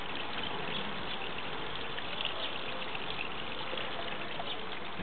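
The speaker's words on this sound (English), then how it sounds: "That's where the water comes out." Water gushes steadily from a solar-powered garden pond pump outdoors, a constant hissing splash with no break, fairly faint and heard alone.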